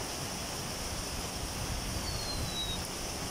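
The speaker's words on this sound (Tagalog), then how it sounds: "Ay, lakas yung ulan. Umuulan na naman dito." Heavy rain from Tropical Storm Kristine makes a constant, broadband rush with no pauses, fairly quiet and distant, like a downpour heard from under shelter.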